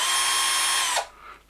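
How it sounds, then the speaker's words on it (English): Electric drill spinning a Rolson wire brush attachment, a loud steady high whine for about a second that cuts off abruptly and leaves faint trailing noise. "put them onto an electric drill"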